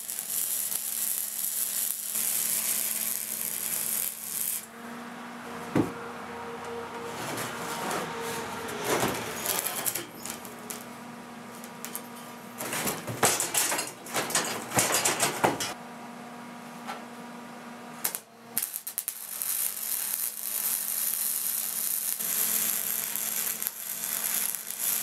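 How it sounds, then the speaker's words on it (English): Plug welds go into holes on a racing mower, heard as long stretches of harsh crackling sizzle over a steady electrical hum, broken by several short pauses and bursts of louder spattering, with no talking. "we're gonna plug weld our little holes here."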